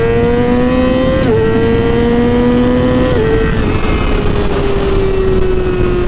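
A car drives along a road in Mexico, its engine a steady tone that drops in pitch at gear shifts around one and three seconds before settling into a smooth, slow, continuous drone with road noise throughout.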